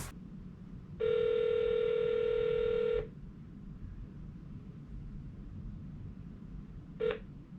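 A phone dials a GameStop store: one steady keypad tone holds for about two seconds, followed after a pause by a short second beep, all over faint background hiss.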